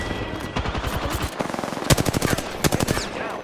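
Rapid automatic gunfire from an Apex Legends match, bursts of dense repeated shots running throughout, with a brief lull before sharper, louder volleys near the end.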